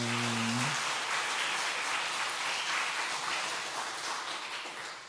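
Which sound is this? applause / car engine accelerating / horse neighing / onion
applause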